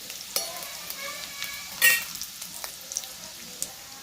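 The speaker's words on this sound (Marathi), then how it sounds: "तिखट आणि जिरा आणि लसूण व्यवस्थित परतून झालेला आहे" Garlic, cumin and chili powder frying in hot oil make a light crackling sizzle, broken by several spoon clinks and scrapes, one louder metallic knock near the middle.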